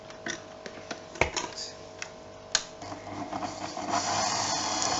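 An electric mixer blends flour, salt and sugar for Assyrian kulecheh dough: a quiet mechanical whirr with scattered ticks and clicks that becomes steadier and louder toward the end.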